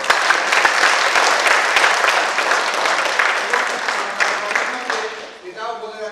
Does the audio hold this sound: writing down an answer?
no